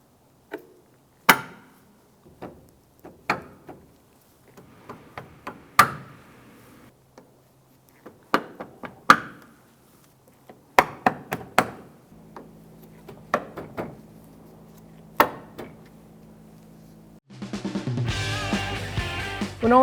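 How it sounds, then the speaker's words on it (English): Plastic push-pin clips snap one after another into the top edge of a 2008-2013 Nissan Rogue bumper. The crisp clicks are close and irregularly spaced with quiet gaps between, and a burst of louder rustling noise comes at the end. "So I'm just going to install our clips all the way across the top of the bumper."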